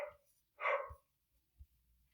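One faint bark from an Australian Shepherd somewhere in another room, a brief isolated yelp against near silence with a couple of soft thumps after.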